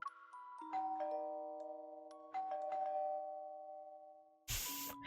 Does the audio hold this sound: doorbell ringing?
yes